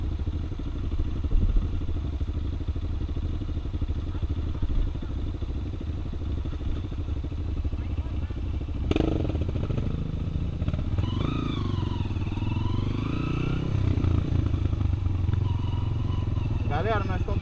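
Tornado 293 cc dirt bike engine running at idle with a steady low rumble, then revving with rising and falling pitch sweeps later on, with people talking nearby.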